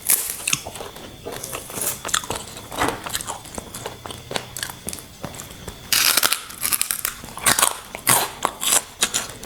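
Crunchy bites and wet chewing of papaya salad with rice noodles, boiled shrimp and crispy pork, close and irregular, with louder crisp crunches near the end and no talking.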